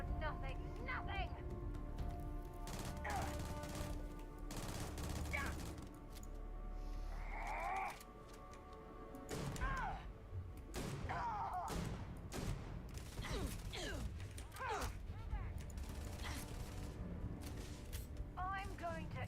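Shotgun fire in a video game, several loud sharp blasts with mechanical reload clicks in between, heard under ongoing talk and game effects.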